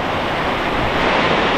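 Water rushing at Tiryani waterfalls in Telangana, a steady broadband roar of heavy flow that stays loud and continuous throughout with no voices over it.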